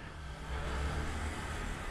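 An old Honda Titan motorcycle engine hums in a steady, faint, rough drone that swells slightly in the middle, with no voices.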